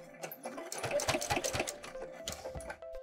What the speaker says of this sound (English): I'm gonna go with about an eighth of an inch seam allowance. Take my time, go nice and slow.